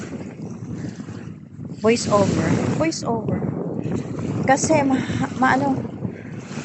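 Strong, cold wind at a seaside plaza in Discovery Bay buffeting the microphone with a constant roar, while a person talks over it.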